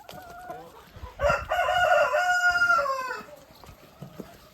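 A rooster crows loudly and close by, a long drawn-out call, with softer clucking from hens before and after.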